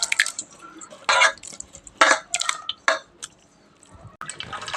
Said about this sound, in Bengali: দুধ নারকেল চিপে দুধ হয়েছে। এখন আমি এটা ছেঁকে নেব ভালো করে।